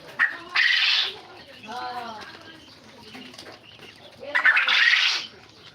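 Quail birds, including a male about forty-two days old, give two loud, sharp bursts of calling near the start and end, with softer calls and a murmuring voice in between.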